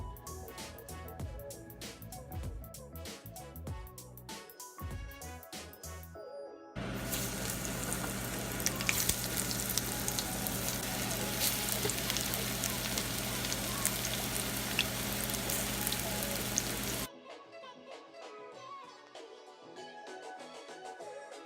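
A steady, bright sizzle of green plantains frying in hot oil fills the middle of the clip, with music playing before and after.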